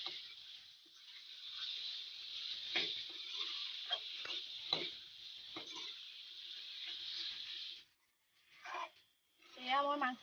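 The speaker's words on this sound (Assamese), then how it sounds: "এয়া মই মাংসখিনি অলপ ভাজিলোঁ" Pieces of local chicken meat sizzle steadily in a hot pan, a bright continuous frying hiss with occasional stirring scrapes, then stopping as someone speaks briefly.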